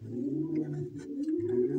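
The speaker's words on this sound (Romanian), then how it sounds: "Ăsta e pițigoiul cu ciocul scurt" A short-beaked tumbler pigeon, a crossbred male from Glasgow horseman stock, coos in low, repeated throaty murmurs close by, two rolling phrases separated by a short pause.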